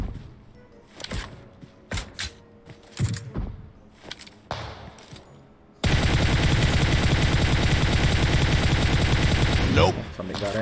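Sustained automatic gunfire in the PUBG Mobile battle royale game, starting after scattered shots and thumps, then a dense, loud continuous burst that runs for several seconds to the end.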